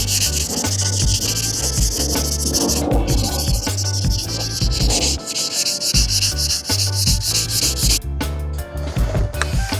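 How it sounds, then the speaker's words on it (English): Hand sanding the edge of a Ford Transit Custom van bumper with 600-grit wet and dry paper gives a continuous, close rasping rub in quick back-and-forth strokes, steady and loud throughout. "just going to go around the edge of here now with 600s wet and dry."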